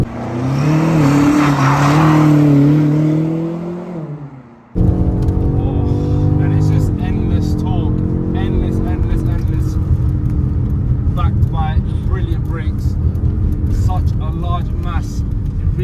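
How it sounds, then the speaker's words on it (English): A BMW X5M Competition SUV, over two tons, driving hard: a loud interior engine roar that swells, dips briefly, then surges back into a sustained high-revving drone. "we're in an over 2-ton SUV, and we are moving right now"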